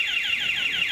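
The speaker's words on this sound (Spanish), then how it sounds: "La alarma alerta de que algo ocurre y hay que reaccionar a tiempo." A school fire alarm sounds during an evacuation drill: a loud, continuous electronic tone that sweeps downward in pitch over and over at a steady, rapid rhythm, with no voices over it.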